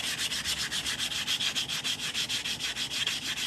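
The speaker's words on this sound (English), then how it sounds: "we're going to sand the cut edge again" Sandpaper rubs the cut edge of a 1/4 oz silver eagle-and-flag coin ring held on a stretcher, in a steady rapid back-and-forth of bright scratchy strokes, close and loud with no talk.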